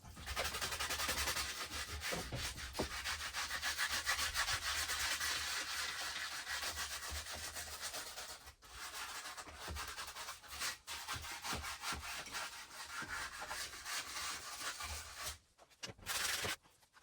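A brush scrubs a surface on a Kenworth W900L project truck, giving a steady, close rasping rub that runs continuously, then breaks into shorter strokes and pauses toward the end.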